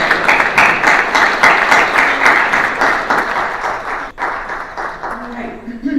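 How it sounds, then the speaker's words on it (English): An audience at a Kiwanis club meeting gives steady, moderately loud applause for several seconds before it tapers off and someone starts to speak. "So, another round of applause for John and his service."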